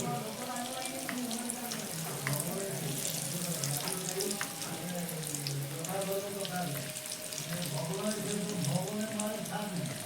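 Snacks made of flattened rice and potato frying in hot oil over a medium flame, a dense, steady bubbling sizzle that runs without a break and carries faint tonal murmurs underneath.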